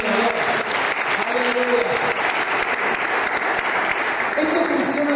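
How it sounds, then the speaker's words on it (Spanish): A church congregation applauds during a Spanish-language sermon, with dense, continuous clapping close by. Voices and sung or spoken tones rise through it, including a brief exclamation. "Denle un aplauso al Señor, porque esto es muy bien."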